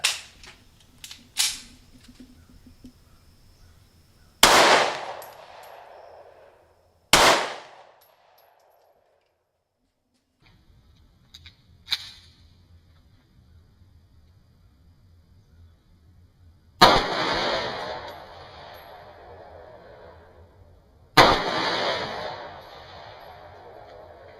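A Sky CPX2 pistol fires Lawman hollow point rounds at old Kevlar armor: several sharp, isolated reports spaced seconds apart, each with a short ringing decay in a quiet outdoor setting, no talk.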